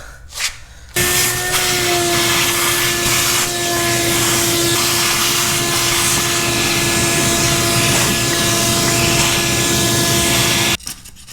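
Hammer drill boring anchor holes into a 4-inch concrete floor for a BendPak MX-10CX two-post lift column: a loud, continuous droning whine with a steady pitched hum, running unbroken for about ten seconds before cutting off abruptly.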